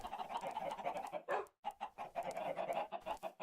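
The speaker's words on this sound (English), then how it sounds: "I have quite a few chickens up in the top there." Chickens in the Minecraft video game cluck steadily in a dense, overlapping run of short bird calls, close and fairly loud, with one brief pause near the middle.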